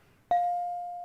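A single bell or chime is struck once, sharply and clearly, then rings on with a long steady sustained tone that fades only slightly.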